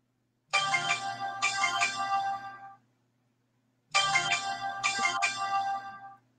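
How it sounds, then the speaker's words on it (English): A mobile phone ringtone plays two loud, clear bursts of a bright melodic tune, each about two seconds long, separated by a short silence, during a pop-up auction. "Sorry about my phone, guys."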